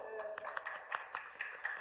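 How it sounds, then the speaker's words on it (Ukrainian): A small audience at the opening of a Hryhoriy Loiko exhibition at the Korsak Museum claps faintly, with quiet, scattered, rhythmic hand claps that stay soft and somewhat distant. "як це гарно, що ви аплодуєте"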